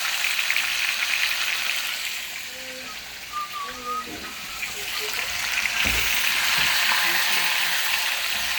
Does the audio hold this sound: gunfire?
no